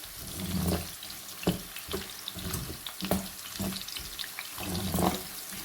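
Chicken manchurian sautéed on high flame sizzles and fries steadily, with repeated stirring scrapes and clatters of the utensil in the pan; no talking.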